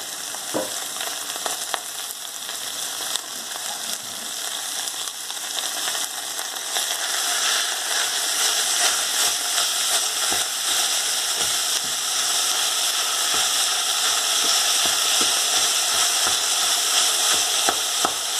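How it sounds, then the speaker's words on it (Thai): About three hundred grams of minced pork stir-frying in a pan with garlic and spring onion, giving a loud, continuous sizzle and hiss with scattered scraping strokes from stirring. "พัดจนกว่าหมูเขาจะสุกเนาะ"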